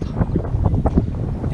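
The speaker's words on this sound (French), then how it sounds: "je sais pas si on m'entend bien avec le vent" Gusty wind buffets the microphone outdoors aboard a sailboat, a steady low rumble with surging swells throughout, loud and close, no voices heard.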